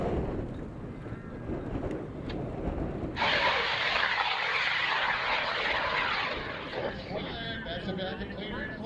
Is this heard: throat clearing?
no